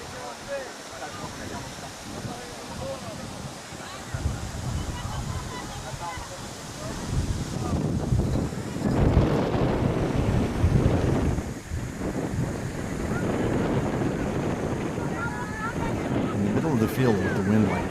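Strong wind blows across an outdoor rugby field during a live game, giving a loud, steady rush with gusty buffeting against the microphone and faint crowd murmur beneath.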